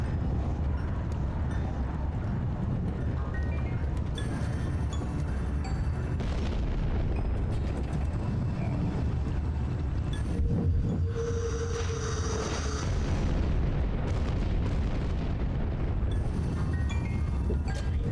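Bombs exploding in the video game Alice: Madness Returns on PS3, a dense run of deep booming blasts rumbling continuously, with a brighter burst and ringing tone partway through.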